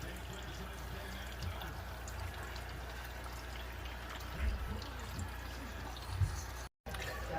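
Water flows steadily into a 110-gallon Waterbox reef aquarium tank through a DIY GFO manifold, a faint, continuous wash with a couple of brief low bumps.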